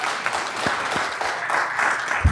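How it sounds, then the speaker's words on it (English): An audience at a school board meeting gives a short round of applause, a steady patter of clapping from a room of people lasting a couple of seconds. "Round of applause."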